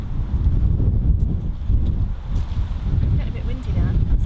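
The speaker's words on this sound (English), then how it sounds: "It's getting a bit windy now" Strong gusts of wind buffet the microphone at an allotment, a constant low rumbling roar that swells and dips, with someone speaking faintly underneath.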